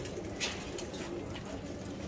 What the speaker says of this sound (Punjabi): ਇਹ ਦੇਖੋ ਕਬੂਤਰ